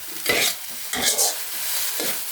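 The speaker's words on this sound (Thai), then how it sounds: "เราจะคั่วจนหมูนี้แห้งเลยนะครับ" Minced pork with chili and salt is stir-fried in a pan: three scraping stirs with a spatula rise over a steady soft sizzle, close and fairly quiet, with no talking.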